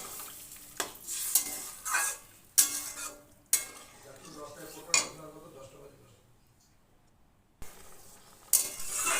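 A spoon stirs a pan of masala with arum stems and potatoes just after lukewarm water goes in, for a Bengali crab curry. Scraping and clinking strokes come in bursts, then fade to a quiet stretch before resuming.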